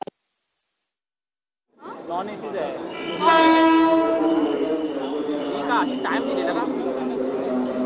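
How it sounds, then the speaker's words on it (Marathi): After a brief silence, a Mumbai local train rumbles into Dadar station close by with a loud horn blast and ongoing rail noise beneath a crowd and voices. "दादर रेल्वे स्थानकावर ही आता ट्रेन आलेली आहे"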